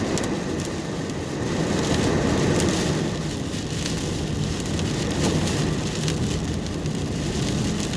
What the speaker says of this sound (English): looks like we're getting plenty of rain out of this